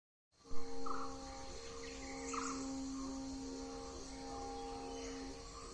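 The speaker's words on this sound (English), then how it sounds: "pitch dark and amazing cricket sounds" Crickets chirp steadily in a continuous high trilling chorus, with a faint distant drone underneath, after a brief moment of silence at the start.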